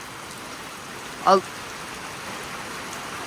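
Heavy rain from an evening thunderstorm falls as a steady, even hiss, heard from under a shed, with a brief voice-like burst breaking through midway.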